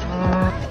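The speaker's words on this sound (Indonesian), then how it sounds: "Walter ingin labnya dilengkapi dengan seekor sapi." A cow moos, a single long, loud lowing call close by that fills the whole short moment with no other sound.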